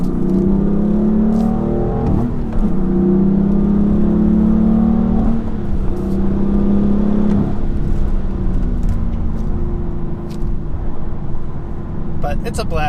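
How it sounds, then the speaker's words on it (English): BMW F80 M3 engine dropping through gears, with several rising rev blips where the revs match on each downshift over a steady interior drone; the driver talks over it. "when you downshift you can hear the engine will match each gear"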